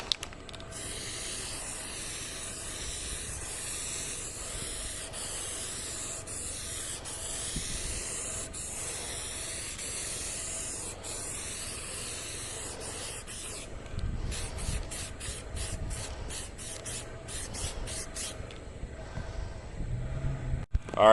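Spray gun laying a third coat of 1K primer filler in a steady close hiss, with brief pauses between passes and a sputtering stretch near the end.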